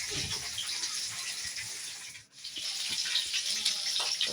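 Water runs continuously from a tap in a bathroom during clothes washing, a close hissing stream with a brief dip midway before it flows on at steady strength.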